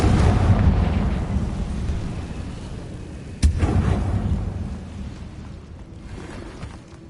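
Confringo spell explosion in the Hogwarts Legacy video game: a sustained low rumbling blast with one sharp crack midway, fading gradually afterward.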